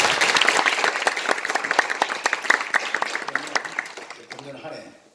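A large crowd applauds with dense, steady clapping that rolls on for several seconds before tapering off and fading out.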